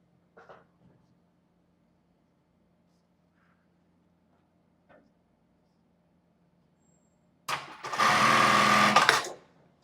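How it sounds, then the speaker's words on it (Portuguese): A sewing machine stitching the front of a tulle bra strap runs in one loud, steady burst of about two seconds near the end, after a few faint taps and handling noises in a quiet room. "E agora eu vou costurar na parte da frente da minha alça"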